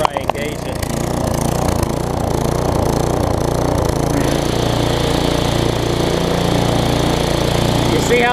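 Tecumseh small engine on a weed trimmer or push mower running after a carburetor replacement, a steady loud close-up putter that evens out, with a voice talking over it.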